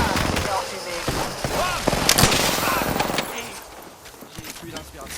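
Dense bursts of gunfire from Apex Legends ring out in quick repeated volleys with sharp cracks, loud and close, while someone talks over the shooting throughout.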